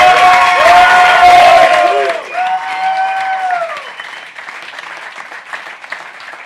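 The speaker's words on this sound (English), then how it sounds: "that was a round of applause, but one more time for Dan Green and his team" Live crowd at a post-race event for the Cocodona 250 ultramarathon breaks into loud applause and cheering, with whoops and shouts riding over dense clapping that swells, then fades to a lighter patter.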